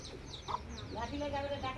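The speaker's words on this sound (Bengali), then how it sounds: "এই যে মুরগিটা ডিস্টার্ব করতেছে এখানে।" A chicken clucks close by in short, throaty notes, with a faint murmur of voices in the background.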